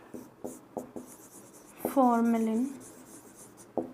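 Marker or chalk writing on a board in a chemistry class, a run of short scratchy strokes close by, broken once by a spoken word.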